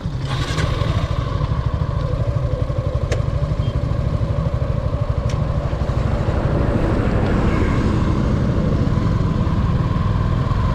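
A Suzuki V-Strom motorcycle is ridden on a road tour, its engine giving a steady drone with strong wind rush across the microphone throughout.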